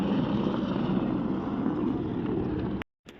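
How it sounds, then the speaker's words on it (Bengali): Loud, steady helicopter engine and rotor drone close by in the mountains on the Amarnath pilgrimage route, passing below the listener, humming without a break before cutting off abruptly near the end. "আমাদের থেকে হেলিকপ্টার নিচে যাচ্ছে"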